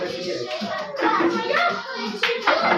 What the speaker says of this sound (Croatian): Aplauz za Luku Ilića